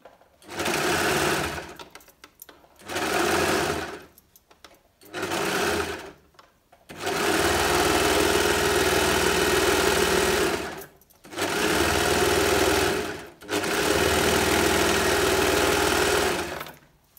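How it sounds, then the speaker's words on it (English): A Brother Lock 2504D overlocker stitching elastic, loud and close: three short bursts of whirring, then longer continuous runs separated by brief pauses. "the elastic has now been stitched with the overlocking thread, and now I can start stretching and pulling"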